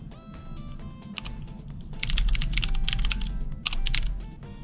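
Rapid clicking of a computer keyboard being typed on during a livestream, with steady bursts of keystrokes that grow louder and denser midway, close and alone without speech.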